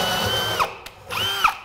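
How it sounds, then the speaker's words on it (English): A Ryobi power drill boring holes, two whining bursts that spin up and wind down with a short pause between, close and fairly loud. "actually, you are drilling the holes"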